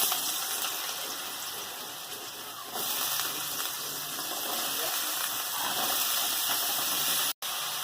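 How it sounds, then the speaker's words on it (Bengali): Potatoes go into hot oil in a pan on a gas stove, producing a loud, continuous frying hiss that rises slightly partway through and holds steady, close up, with no voices. "তেল গরম হয়ে গেছে আলুগুলো দিয়ে দিচ্ছি"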